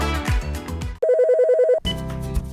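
A telephone rings for an incoming call, a rapid trilling bell burst lasting under a second, loud and clear between stretches of music.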